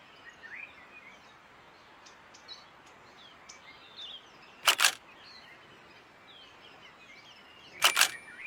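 Camera shutter bursts firing while photographing manakins, whydahs, white-eyes, waxbills and firefinches at a garden feeding station from four meters away: two short rapid bursts of clicks, close and crisp, over faint bird chirps in the background.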